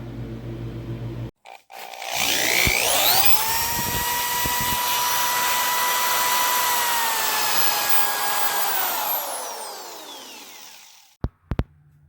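Belt sander running across a live edge wood table: it spins up with a rising whine, holds a loud steady grinding hum for several seconds, then winds down, with a few clicks at the end.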